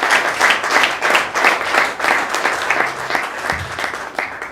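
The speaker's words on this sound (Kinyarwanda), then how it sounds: "Amashyi menshi ku Mana yacu." Steady rhythmic applause from a church congregation during a worship service, many hands clapping together in a fairly even beat throughout.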